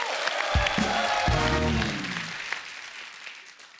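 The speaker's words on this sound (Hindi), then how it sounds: "उसके लिए जोरदार तालियां" Studio audience applause on a comedy talk show, a dense burst of clapping that swells quickly and then fades away, with some music-like tones at the start.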